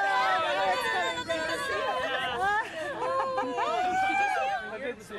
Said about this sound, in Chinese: 人群惊呼着蜂拥而出。